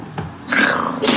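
Zombie growls from the survival video game Unturned, a short snarl then a longer rasping growl, fairly loud and close, with no speech over it.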